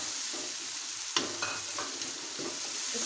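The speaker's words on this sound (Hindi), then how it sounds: "इसको हम 2 से 3 मिनट अच्छी तरह फ्राई करेंगे ताकि टमाटर जो हैं वो हमारे थोड़े से सॉफ्ट हो जाए।" Ginger and cubed tomatoes fry in a pan for a restaurant-style boneless chicken handi, giving a steady soft sizzle broken by a few light stirring scrapes and clicks.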